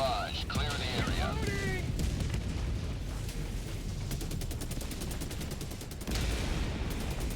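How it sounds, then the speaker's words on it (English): An orbital barrage artillery strike in the video game Helldivers 2: continuous loud rumbling explosions and rapid gunfire layered together, with a voice talking over the din. "Firing orbital barrage"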